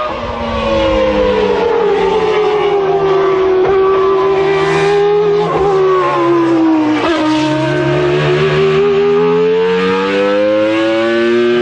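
A 2014 Formula 1 car engine screams close and loud, revving hard to over 14,000 rpm, its pitch climbing, dipping on sequential gear changes and climbing again without a break.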